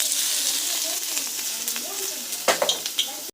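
Onions hit hot oil with mustard seeds in a pan for a South Indian kuzhambu, giving a bright continuous sizzle close up, with a cluster of spoon-on-pan clinks and stirring knocks near the end.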